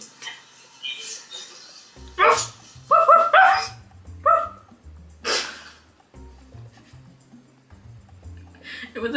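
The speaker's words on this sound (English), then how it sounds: "It was a dog." A dog barks several times in short yips and bow-wows over background music, with people talking around it.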